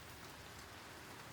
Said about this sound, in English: Why is it raining so much?